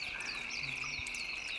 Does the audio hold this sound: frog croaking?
yes